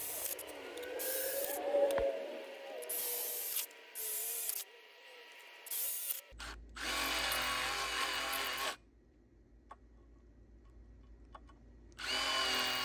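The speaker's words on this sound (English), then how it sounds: "that's going to be where we drill our holes to put our screws in" Several bursts of a power drill biting into steel angle iron, whining loudly with short pauses between holes, then a steady lower mechanical hum.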